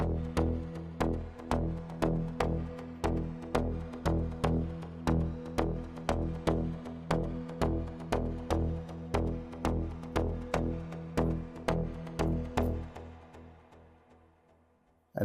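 A synth pad from the Poison plugin in FL Studio plays a rhythmic pulsing chord, retriggering in a steady repeating pattern for about thirteen seconds before fading out, with no talking.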